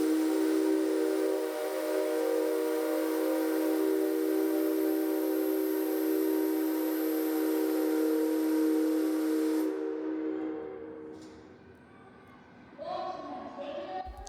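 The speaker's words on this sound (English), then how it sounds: "there is a very long whistle before it starts turning" A steam locomotive's whistle sounds at a railway turntable near Tokyo, one long steady tone held for about ten seconds before cutting off, followed by quieter mechanical noise.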